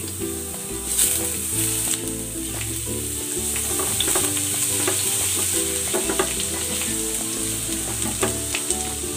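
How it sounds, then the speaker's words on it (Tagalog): Garlic sautéing in hot cooking oil in a pan, a steady loud sizzle with scraping stir strokes throughout, no voices. "Igigisa ko na tong bawang."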